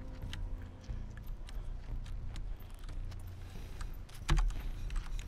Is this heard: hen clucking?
no